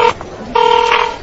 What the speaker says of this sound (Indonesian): Ayo, telepon bos dulu deh.